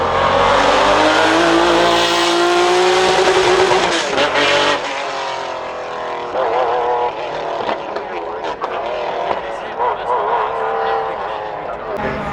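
An Ineos Grenadier engine drones and shifts pitch as it drives a hill climb, loud and near at first and then receding, with voices talking over it throughout.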